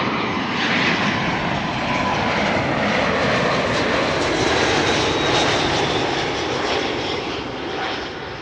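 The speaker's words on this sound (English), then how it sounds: "BA A319 up next, arriving from London Heathrow." A British Airways Airbus A319 arriving from London Heathrow lands on runway 06 at Amsterdam Schiphol, its engines a loud, sustained roar that holds steady and then fades slightly toward the end.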